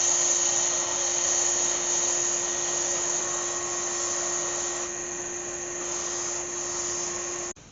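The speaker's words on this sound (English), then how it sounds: "I'll just sand that end down." A wood-turned baby elephant is sanded on a spinning lathe, a steady high whine with a constant pitched hum that runs without a break for several seconds and then cuts off at the end.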